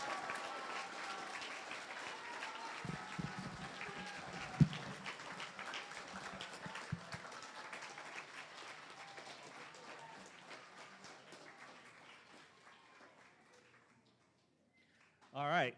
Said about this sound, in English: Please join me in giving Brian a huge round of applause